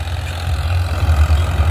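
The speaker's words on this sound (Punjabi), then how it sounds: "ਚਲਾਤੇ ਦੋ ਟਰੈਕਟਰ 475 ਵੀ ਆ ਗਿਆ" Two tractors, one a 475, run in a field being ploughed, giving a deep, steady diesel rumble with a slight throb, close and continuous throughout.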